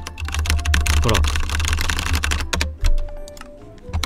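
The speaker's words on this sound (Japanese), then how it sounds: "どうすかこのキーボードの音。" Rapid clicking of a mechanical keyboard with brown switches during a Minecraft session, a steady close-up patter of keystrokes with someone talking over it.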